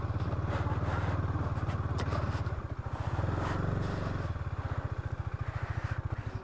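KTM Duke 250 motorcycle ridden slowly on a black-ice mountain road in winter, its single-cylinder engine putting out a steady, close low thump that swells briefly midway and then settles back to an even idle-like beat.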